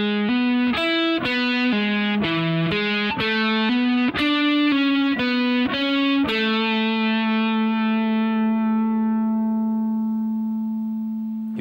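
Distorted electric guitar strums a quick run of chords, then lets the last one ring out and slowly fade, with no voices.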